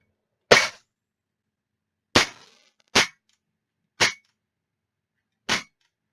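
Dry-fire trigger snaps from a handgun fitted with a Mantis X training sensor: five sharp, isolated clicks at irregular intervals over several seconds, close and crisp with silence between.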